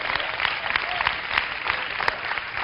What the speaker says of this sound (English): You should clap right there.